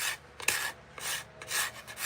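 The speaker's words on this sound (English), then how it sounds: "I'm scraping it down, getting all the lacquer off." A scraper rasps lacquer off a vintage wooden axe handle in several close strokes, a dry, gritty rubbing that swells and fades with each pass and has no voices over it.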